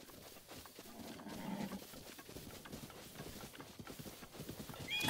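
Rapid hoofbeats of a galloping horse in The Legend of Zelda: Breath of the Wild, steady and fairly close, with a brief rise in rumble midway and a sharp sound at the very end.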